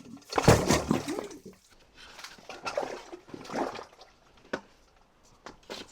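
Water gushing from a DIY shallow water well in an off-grid build, heard as a loud splashing burst near the start and then irregular sloshing and dripping surges that ease off over the next few seconds.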